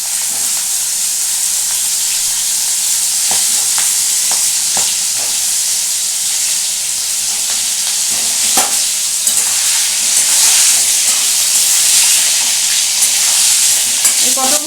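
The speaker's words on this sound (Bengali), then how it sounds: "এই পটলগুলো আমি এখন একটু সুন্দর করে ভেজে তুলবো।" Pointed gourd (potol) pieces dusted with turmeric fry in oil in a pan, giving a loud, steady sizzle and hiss with scattered clicks and scrapes of stirring, and no talk.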